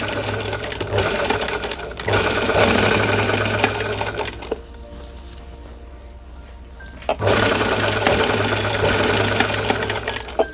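An electric sewing machine stitches kurta fabric in rapid whirring bursts, running hard, pausing for a few seconds of quiet, then stitching again.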